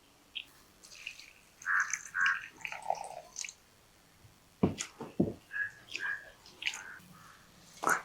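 Dried fish being rinsed in water in a home kitchen, with a few soft splashes and drips, quiet and close, spread over several seconds.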